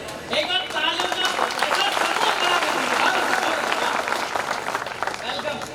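A crowd at a Hindi kavi sammelan poetry gathering breaks into loud, sustained applause, with voices calling out and talking over the clapping throughout.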